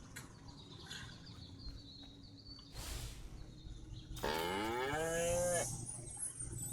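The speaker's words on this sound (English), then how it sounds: "Again with the moo?" A cow moos in the video game Destroy All Humans, one long drawn-out lowing call in the middle of the game's background sounds, clear and fairly close.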